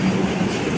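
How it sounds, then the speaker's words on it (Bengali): A Kolkata underwater metro train heads from Esplanade toward Sobabazar, heard from inside the car as a brief, loud, steady rumble with low droning wheel noise. "ট্রেন অলরেডি ছেড়ে দিয়েছে স্প্ল্যানেড থেকে, এবার আমরা ছুটে চলেছি শোভাবাজারের দিকে"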